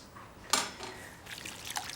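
Cooked fruit pulp for jelly being poured into a container in a home kitchen: a brief splash, then a soft, wet trickle that continues faintly.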